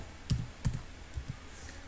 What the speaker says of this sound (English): I'm going to type oval